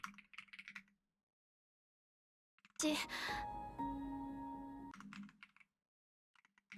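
Quick clatter of keys on a computer keyboard comes in a short, close burst, followed by a sustained tonal hum, with faint voices before and after in an otherwise quiet room.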